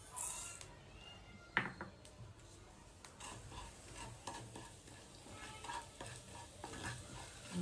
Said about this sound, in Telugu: కొంచెం ఆయిల్ వేస్తున్నా చూడండి. ఆవాలు, జీలకర్ర, మెంతులు.